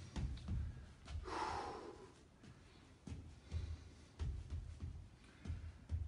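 Deep, heavy breaths after a boxing cardio workout come in slow, repeated rounds of audible inhales and exhales, close to the microphone against a quiet room.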